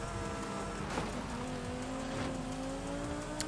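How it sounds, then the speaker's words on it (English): A Lamborghini Huracan Evo drives in Forza Horizon 5, its engine note rising steadily over a dense rushing noise, loud and continuous throughout. "Excuse me, Lamborghini coming through."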